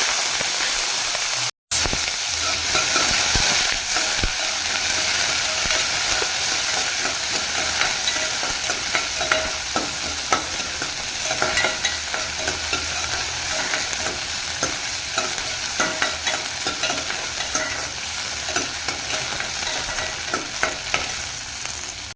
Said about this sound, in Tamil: இப்போ நம்ம இந்த காயை வணக்கலாம் நல்லா பாவக்காயெல்லாம் எண்ணெயில் எப்படி வணக்குமோ அதே மாதிரி தான் வணக்கணும்